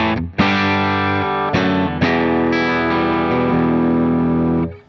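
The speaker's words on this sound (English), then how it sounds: "Here's the clean sound on the bridge pickup." Sustained electric guitar chords on the bridge pickup through a Helix two-amp preset, ringing loud and close with a few fresh strums and a short gap early on before fading at the end; the tone carries some effects coloring and grit.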